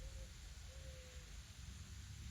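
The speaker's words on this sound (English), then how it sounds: "Those are mourning doves we have all over out here." Mourning doves coo outdoors, two soft, drawn-out low notes that stand apart from a constant hiss of background noise, distant and faint.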